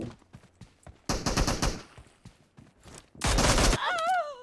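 In PUBG Mobile, guns fire in two loud clusters of rapid shots, each lasting about a second, with fainter scattered shots and light movement sounds between them.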